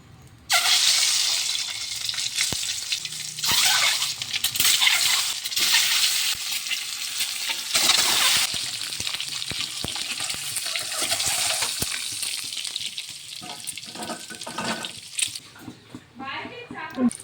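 Peeled boiled eggs dropped one by one into hot homemade oil, hissing and sizzling loudly in bursts with clatters of handling, while a voice talks over the cooking.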